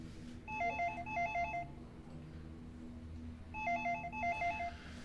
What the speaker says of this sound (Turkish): Bir şu telefon açsın ya.